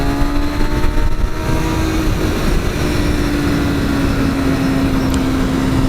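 Motorcycle engine running loud and steady near the listener after an ECU flash, with a strong harmonic drone that rises slightly and holds, though no sharp throttle blips stand out.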